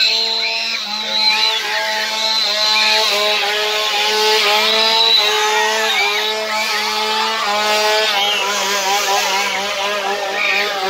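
A chainsaw runs steadily near the recorder in a loud, sustained whine with slight rises and dips in pitch, as in a clown scare prank.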